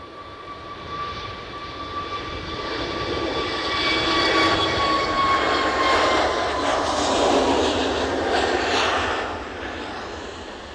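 An EasyJet jet airliner takes off at Edinburgh airport with a rising engine whine and roar that swells to a loud peak mid-pass before fading, with a thin tonal whistle running through it.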